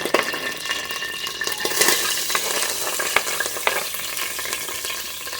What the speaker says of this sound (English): I'm going to go ahead and get my onion into my pot